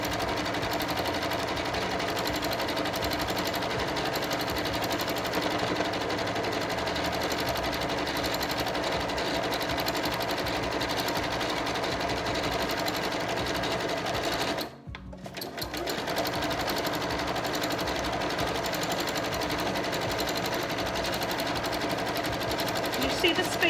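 A sewing machine runs steadily at an even, moderate speed during free motion quilting, stopping briefly near the middle before resuming, with a person talking over it throughout.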